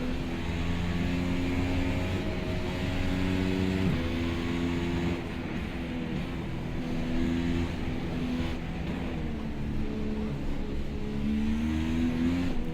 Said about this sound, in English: Fifth gear wheel spin.